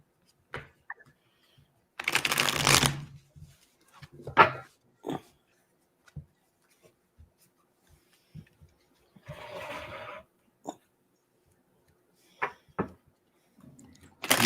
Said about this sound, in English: I'm going to lay out a few different cards for us to see that